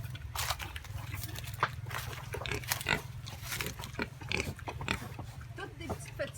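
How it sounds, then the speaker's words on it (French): Pigs at a farm in Hsipaw grunt and snuffle in a busy run of short, close calls, with a constant low hum beneath and some voices mixed in. "Les beaux cochons."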